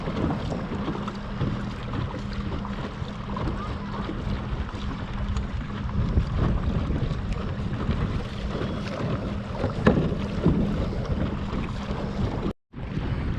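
Wind rushes steadily past a small boat driven by a battery-powered trolling motor heading into the wind, a continuous broadband buffeting with water and hull noise beneath, briefly cutting out near the end.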